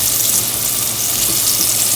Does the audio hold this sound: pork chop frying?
yes